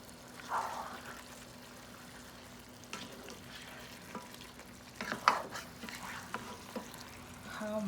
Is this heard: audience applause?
no